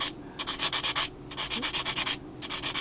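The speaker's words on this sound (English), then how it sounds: "We can probably get away with just sanding this with the fine sanding stick" Fine sanding stick rubbed against a small plastic part from a 1/32 scale Tamiya Mitsubishi A6M2b Zero model kit, close up, in quick rhythmic bursts of scratchy back-and-forth strokes separated by brief pauses.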